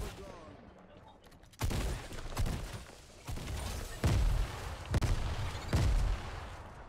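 Grenades explode amid gunfire in a video game firefight, several loud close bursts and rattling shots arriving in uneven clusters over about seven seconds.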